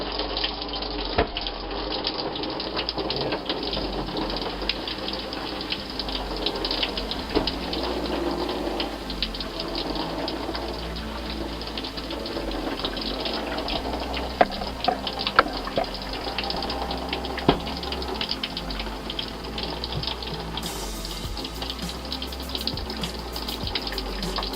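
A shower runs in a NuWa travel trailer, a continuous hiss of falling water with occasional splatter and knocks, steady and close, with no talking.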